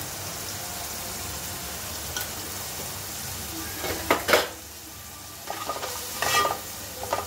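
Malvani masala and garam masala sautéing in a pan for drumstick curry, a soft sizzle under several short bursts of stirring and scraping, close and moderately loud, with no talk.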